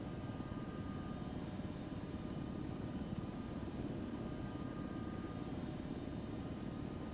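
A helicopter in the video game ArmA 3 gives off a steady, faint rotor and engine drone with no change in pitch, with no voices over it.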